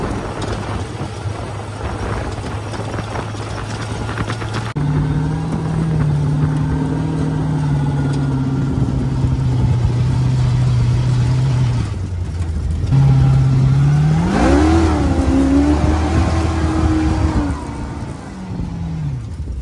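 A sand limo dune buggy at the Glamis Sand Dunes drives along with a loud, steady mid-pitched engine drone that shifts gear, dips briefly, then revs up with a rising whine before settling.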